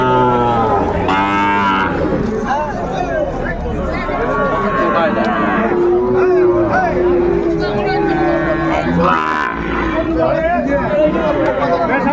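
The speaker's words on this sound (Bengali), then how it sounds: "শাহিওয়ালের ষাঁড় বাচ্চা কোয়ালিটি সম্পন্ন বাচ্চা" Sahiwal bull calves at a busy cattle market low repeatedly with loud, drawn-out moos, close by, while a crowd chatters and people talk over them.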